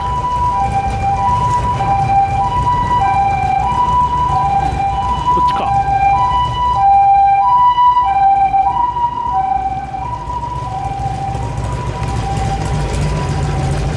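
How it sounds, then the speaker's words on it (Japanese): An ambulance siren wailing in a steady two-tone pattern near a railway line in southern Osaka, loud and fairly close, passing over traffic noise while a voice briefly speaks. "救急車も鳴ってる。"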